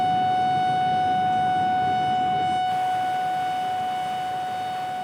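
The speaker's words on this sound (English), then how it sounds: "emergency sirens announced mandatory evacuations were in effect 5 hours earlier than predicted" A steady emergency evacuation siren wails during a flood, one sustained tone holding loud and even throughout with a faint hiss beneath.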